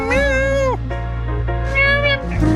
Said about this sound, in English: Cat just now.